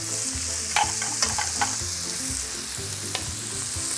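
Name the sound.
pork neck frying in oil like steak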